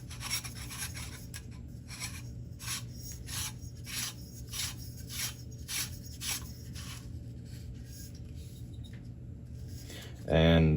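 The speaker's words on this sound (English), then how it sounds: "then the buffer tube, we're just gonna start screwing it on" Buffer tube being screwed by hand onto a Colt M16A1 rifle receiver from a parts kit build, a steady run of rhythmic scraping thread turns, close and fairly quiet, ending with a brief voice.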